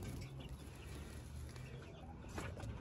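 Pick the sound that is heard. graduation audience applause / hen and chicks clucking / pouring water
hen and chicks clucking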